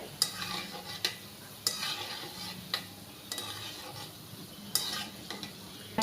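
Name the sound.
gulab jamun sweets frying in oil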